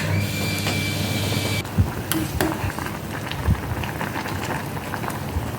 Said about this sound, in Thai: รอให้เดือดค่ะ